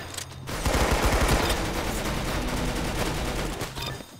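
Dense, sustained automatic gunfire from a Roblox Arsenal match, a rapid continuous burst of shots lasting several seconds with no talking over it.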